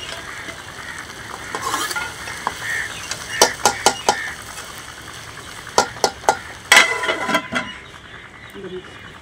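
Spiced chickpeas frying in a pan while being stirred, a steady sizzle with scattered scraping clicks of the spoon against the pan, close and moderately loud.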